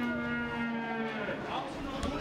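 Korean Hanwoo calves moo with a drawn-out, steady low call at an early-morning cattle auction market, close and fairly loud over busy background noise.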